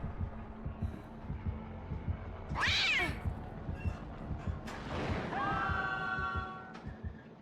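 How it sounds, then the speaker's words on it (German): A cat meows twice inside a video game on an alien-themed map, two clear drawn-out cries rising above a low humming game background with no talk. "Seit wann kommt da eine Katze raus?"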